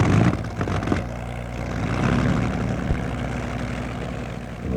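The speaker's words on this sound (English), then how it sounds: "Once the engine is running at its full pitch, it's just purring along" Propeller aircraft engine running evenly at full pitch, a steady droning hum with a low pulsing beat, close and continuous with no talk.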